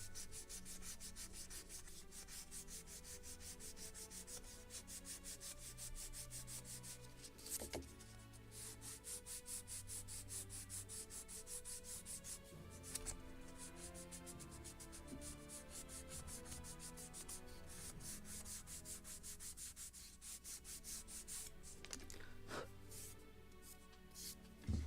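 Sandpaper rubs steadily over a wooden plank on a model kit of the 1776 gunboat Philadelphia, a continuous quiet scratchy hiss with short strokes and brief pauses, close and alone with no talking.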